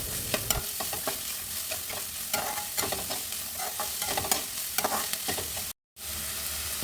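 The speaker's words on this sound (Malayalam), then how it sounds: "സവോള രണ്ട് മിനിറ്റ് വാടുമ്പോഴേക്കും പയർ കൂടി ചേർക്കാം" Onion and green gram sauté in a pan while a spoon scrapes and stirs through them in repeated strokes over a steady close sizzle.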